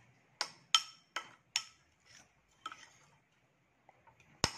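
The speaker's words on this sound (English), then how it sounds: "And now mix it well." A spoon clinks against a bowl while Hershey's chocolate syrup is mixed in. The clear, sharp taps come in a quick irregular series, several in a row, then a pause and a final bright strike.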